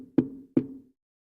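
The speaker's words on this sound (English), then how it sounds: "Oh, someone's at the door." Two sharp, close knocks on a door about a third of a second apart, then silence.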